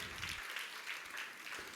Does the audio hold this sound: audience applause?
yes